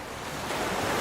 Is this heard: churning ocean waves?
yes